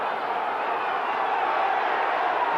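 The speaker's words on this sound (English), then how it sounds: "And they're being roared on by the crowd at the back of those sticks." Steady roar of a rugby league crowd at Featherstone Rovers versus Castleford, a continuous broad swell of cheering and shouting behind the posts, moderately loud and unbroken, with faint commentary underneath.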